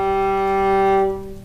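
A single sustained bowed cello note, smooth and resonant, holds steadily before fading out.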